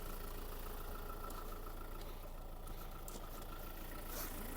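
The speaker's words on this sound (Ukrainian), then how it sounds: "Двигун працює" A steady low engine hum of an idling 2020 Ford Transit L3H2 van, constant and even throughout, heard from nearby with no voices.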